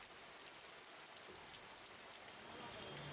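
Heavy rain falls steadily in a dense, even hiss that holds at a constant level, faint and with no pauses or distinct drops.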